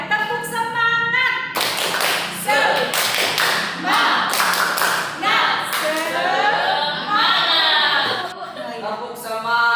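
A Sunday-school-style classroom clapping chant, tepuk semangat, led by a teacher: sharp rhythmic claps in bursts interleaved with a chanting voice, loud and close.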